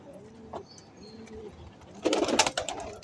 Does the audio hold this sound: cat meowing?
no